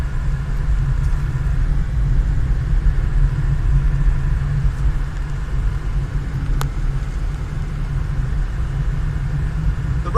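A car cruises along an island road on Kefalonia, Greece, with a steady low rumble of engine and tyres heard from inside, constant and fairly loud, with no voices.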